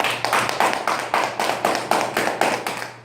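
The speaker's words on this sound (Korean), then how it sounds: "그런 강사님들한테 그냥 박수 한번 안 드릴 겁니까?" An audience in a leadership lecture hall applauds the instructors, rhythmic unison clapping in steady even beats, loud and close, with no talking.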